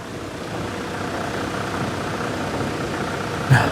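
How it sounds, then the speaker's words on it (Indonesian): A 2000 Toyota Land Cruiser VX100 engine idles in a steady low rumble, close and even throughout, with a brief bump right at the end. "ini adalah suara dari Land Cruiser VX100 yang pastinya terawat"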